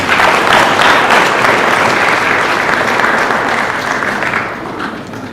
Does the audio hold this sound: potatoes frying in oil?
no